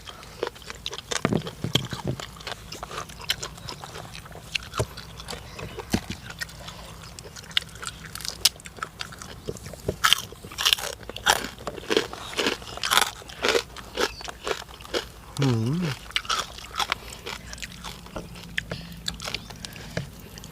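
Close, crunchy biting and chewing while eating snail salad, with irregular crisp crackles and munching bursts spread across a quiet background, plus a brief murmur.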